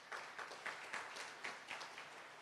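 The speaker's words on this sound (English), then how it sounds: "Can we all give God a clap of praise?" A church congregation claps together in praise during a worship service, producing steady, rhythmic bursts of applause that sound fairly soft and distant, with no voices over it.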